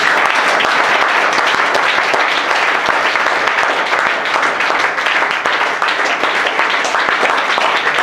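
Church congregation applauding and cheering in praise during a sermon, dense continuous clapping with crowd voices filling the whole stretch at steady loud level.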